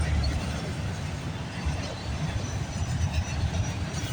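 Train rolling past at a railway station in Bronte, a steady, loud low rumble with continuous rail noise filling the whole stretch, no clear horn or individual clicks standing out.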